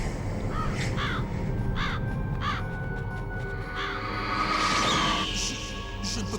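Crows caw repeatedly in the Metal Gear Solid video game, several harsh calls spaced over a steady ambient rumble, with a faint high tone near the end.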